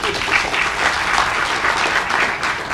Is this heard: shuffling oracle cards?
no